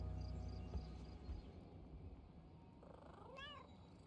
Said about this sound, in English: Oh, good, I can pet the cat.